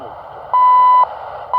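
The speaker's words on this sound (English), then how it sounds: "Thought I heard the Canadian time thing right there." A Canadian shortwave time signal on a Degen DE13 radio: steady tone with a half-second beep standing out over it, then another beep starting at the end, over a muffled shortwave hiss and hum.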